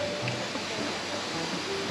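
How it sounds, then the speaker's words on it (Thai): A steady, soft rush of falling water from a waterfall near Chiang Mai fills the air, even and continuous, heard from a short distance. "น้ำตกจริงๆนะ"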